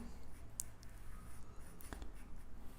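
A pencil drawing an arc on paper for a Superman sketch, faint soft scratchy strokes with a couple of brief sharper scrapes, quiet and close with no talk.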